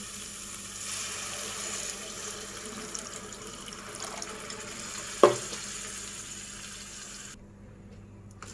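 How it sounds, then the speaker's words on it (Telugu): Tamarind juice poured into a simmering pan of onions and oil for a fish curry, a soft steady liquid splash and sizzle with a brief sharp clink partway through before the sound drops away. "ఇందులో చింతపండు రసం వేసుకుందామండి."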